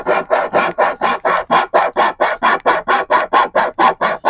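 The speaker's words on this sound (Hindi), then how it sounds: "ये आरी निकली है उसके अंदर से।" A small folding saw pulled from a compact multi-tool cuts with a steady, regular back-and-forth rasp, about four strokes per second, loud and close with no talking.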